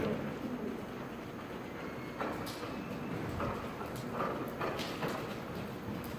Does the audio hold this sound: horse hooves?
yes